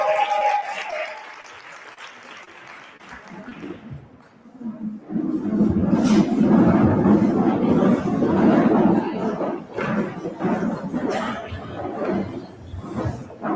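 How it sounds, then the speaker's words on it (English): A business workshop audience breaks into applause that swells after a quieter opening, with sustained clapping mixed with some chuckles and chatter before it tapers slightly. "Now give yourselves a round of applause"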